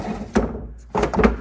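A drawer in an old wooden furniture piece slides open with a short scrape, a woody thunk, then another rough slide, close and fairly loud with no talking.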